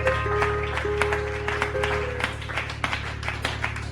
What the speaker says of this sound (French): Est-ce qu'on peut ajouter pour cela une grande acclamation